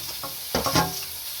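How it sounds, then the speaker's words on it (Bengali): Chopped garlic, onion and green chilli sizzling in hot oil in a wok, with a brief burst of stirring partway through, close and steady with no talking. "এরপর কড়াতে তেল দিয়ে রসুন কুচি একটু ভেজে নিলাম তার মধ্যে পেঁয়াজ কুচি দিয়ে দিলাম আর কাঁচা লঙ্কা কুচি"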